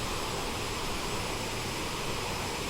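CRJ regional jet airliner engines in a flight simulator roar as a steady, broad, loud whoosh with no variation and no talking.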